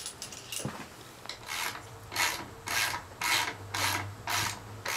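Stock shift lever being worked off a 2016 Aprilia RSV4 RF motorcycle, with repeated rasping, rubbing strokes in a steady rhythm and light mechanical clicks, close and moderately loud with no talk.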